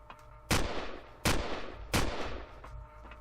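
In the Empyrion game, three sharp gunshots ring out in quick succession over a low steady hum, each with a brief fading echo.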